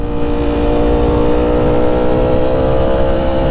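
A StreetFighter V4 S motorcycle fitted with an SC Project titanium exhaust rides hard, its loud, close engine growling steadily throughout with a sustained rumbling exhaust note.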